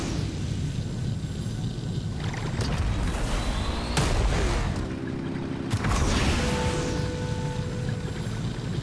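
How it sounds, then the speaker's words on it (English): Boat engines roar to life in the video game Genshin Impact, a loud broadband rumble with whooshing surges and a booming swell, continuous throughout with a brief tonal hum near the end. "Start the engines!"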